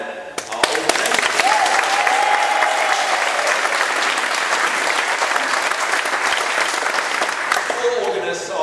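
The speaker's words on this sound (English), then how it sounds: "we just want to give him another round of applause" Audience at a charity Big Sing event in aid of St Andrews Hospice breaks into sustained, loud applause from a large crowd, dense clapping continuing steadily throughout.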